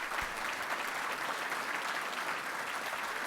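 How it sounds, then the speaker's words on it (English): Steady, dense applause from a large conference dinner audience of county officials honoring Basil Sagos, sustained evenly across the moment with no talking over it. "let's give him a round of applause"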